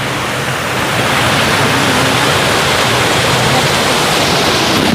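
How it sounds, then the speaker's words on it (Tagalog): A strong river current rushes in a loud, unbroken roar of churning water, steady and close from start to finish, with no voices. "Lakas ng agos, oh."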